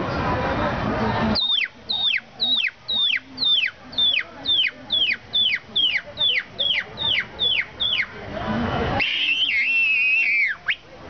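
A rapid series of high, thin chick cheeps, about a dozen in steady rhythm, close and clear, between bursts of louder noisy sound.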